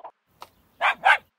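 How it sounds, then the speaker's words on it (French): A cartoon dog in a French children's learning show gives two or three short barks, a small yip first, then two loud, close barks in quick succession. "Un chien."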